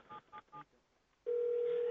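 A VoIP desk phone sounds three short dialing beeps, then a steady tone comes in loud and continuous after a brief pause.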